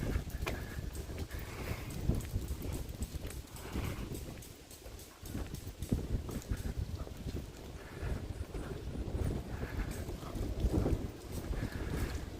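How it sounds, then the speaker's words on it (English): Strong wind buffets the microphone outdoors on a coastal walk near Enoshima, Japan, making a rough, gusty rumble that rises and dips unevenly throughout, with no talking. "wind is really picking up here"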